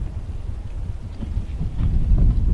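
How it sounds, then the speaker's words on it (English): Strong night wind buffets the microphone on a Missouri turkey hunt in a steady low rumble that grows louder toward the end, with no other clear sounds. "it's very hard to hear because it's so windy tonight"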